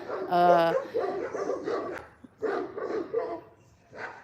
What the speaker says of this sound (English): The dogs are barking at Amish going by.